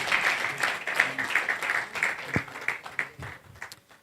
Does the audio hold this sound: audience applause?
yes